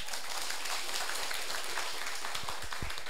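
An audience at the closing ceremony of an administrative training course in Taiwan claps together in steady, dense applause that fills the whole moment without pause.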